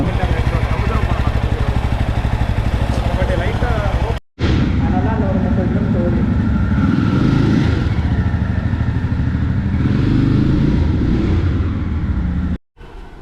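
A Jawa 42 2.1 motorcycle engine runs steadily throughout a test ride, loud and close, with two brief dropouts and a voice talking over it.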